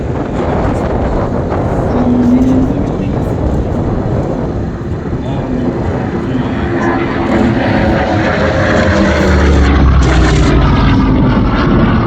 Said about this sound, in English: Now we're going to pick up a little speed, go right down the runway, pull up, do a photo pass, and then land.